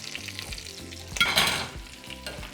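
Potatoes frying and being stirred in a pan for a Mexican deviled shrimp dish: a steady close sizzle with scraping stirs, swelling louder mid-way as the pieces are moved around, no talk.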